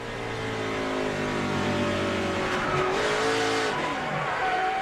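A NASCAR-style racing truck skids out of control, its engine roaring loudly and steadily with rising and falling pitch and a sustained tire squeal, close and continuous throughout.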